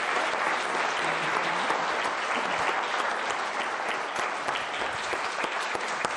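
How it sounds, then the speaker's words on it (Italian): Sustained audience applause fills a sports hall at an Italian sports event honoring figures who have passed, a dense, steady clapping that stays loud and even throughout with no talk over it. "Perciò ricordiamo chi nello sport non c'è più ma ha fatto tanto, con un bel applauso."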